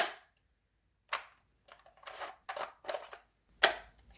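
An electric FN F2000 airsoft rifle has its magazine released and pulled out, giving a few sharp, close plastic clicks and slides separated by short silences, ending in one louder snap.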